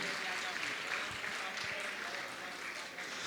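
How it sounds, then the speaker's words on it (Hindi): An audience applauding at a gathering, a dense patter of many hands clapping at a moderate, steady level that eases slightly toward the end. "आपकी तालियां लगातार बजती रहें, बातचीत न करें, तालियां बजाकर अभिनंदन कीजिएगा इनका।"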